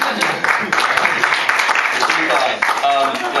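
An audience at a stand-up comedy show claps and cheers loudly, the applause holding steady for a few seconds as it begins to fade.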